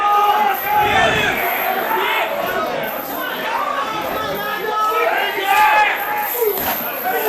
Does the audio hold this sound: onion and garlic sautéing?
no